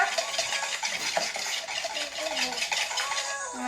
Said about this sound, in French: On touille, hein. Énergiquement.